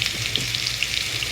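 Chopped onion fries lightly in oil, a close, bright sizzle with fine crackling pops, brief and steady with no voices.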